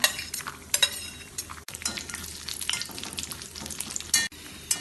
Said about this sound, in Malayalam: അണ്ടിപ്പരിപ്പിന്റെ കളർ മാറി തുടങ്ങുമ്പോൾ ഇതിലേക്ക് കുറച്ച് ഉണക്ക മുന്തിരി ഇട്ട് വറുത്തെടുക്കാം